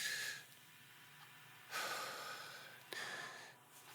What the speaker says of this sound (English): So if you breathe in deeply with support, you should actually feel your stomach puff out.